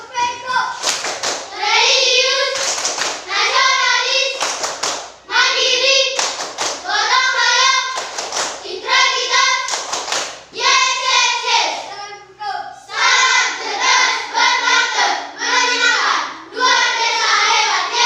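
Schoolchildren in an Indonesian classroom perform the rhythmic PPK clap together, loud sharp bursts of group clapping in a patterned beat, interleaved with the class chanting in unison.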